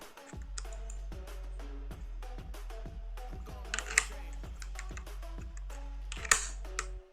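The covers of a Logitech G502 Lightspeed wireless gaming mouse are snapped shut in a string of sharp plastic clicks, close up, with a low steady hum underneath.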